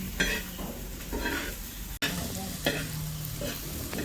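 Onion frying over a wood-fired village stove, a steady broadband sizzle running throughout with periodic scraping stirs and brief clinks of a pan, close and moderately loud, with no talk.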